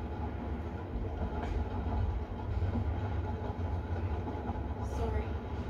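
A train carriage rolls on rails aboard a fictional long passenger train, producing a continuous low rumble with faint rhythmic clatter and a couple of brief higher squeaks.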